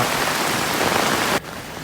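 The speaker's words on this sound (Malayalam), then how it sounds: "തോരാത്ത മഴയാണ് നല്ല രീതിയിൽ മഴ പെയ്തുകൊണ്ട് നിൽക്കുന്ന" Heavy rain pours down in a dense, steady hiss, then abruptly drops to a softer patter just before the end.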